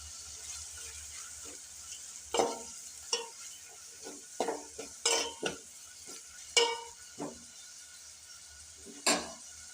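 Finely chopped tomato tossed into a hot pan and stirred, with a steady soft sizzle of frying and repeated scraping, clattering spoon strokes against the pan; no talking.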